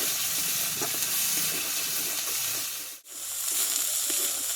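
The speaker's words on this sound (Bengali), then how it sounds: "মশলাটা একটু ভালোভাবে কষিয়ে নেবো" Spice paste seasoned with salt and a little sugar sautéing in a pan, a constant hissing sizzle with faint stirring clicks, close by; the sound briefly drops out near the middle before resuming.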